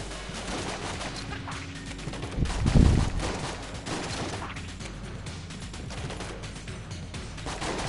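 Rapid gunfire from shooting in the bullet-hell game Enter the Gungeon crackles continuously at moderate loudness, with a heavier thump partway through.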